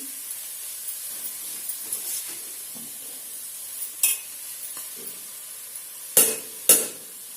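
Potato and cabbage curry is stirred into tempering oil on a low flame: a faint hiss beneath soft, irregular spoon scrapes, ending with a few sharper, louder clanks against the pan.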